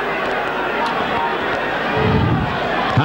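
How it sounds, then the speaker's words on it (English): A rugby league stadium crowd at Leeds v Wigan murmurs and grumbles in disapproval after a penalty, a dense mass of voices under a commentator's talk, swelling slightly toward the end. "The crowd don't like it."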